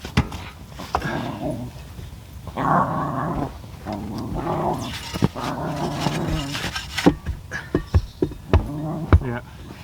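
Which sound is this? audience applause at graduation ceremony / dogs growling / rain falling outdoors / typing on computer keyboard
dogs growling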